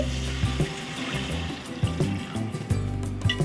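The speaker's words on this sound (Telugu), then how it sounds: "రెండు గ్లాసులకి నాలుగు గ్లాసులు నీళ్లు పోస్తున్నానండి" Water splashes and gurgles steadily into a cooking pot for bagara rice, with intermittent clinks and bumps of metal cookware close by.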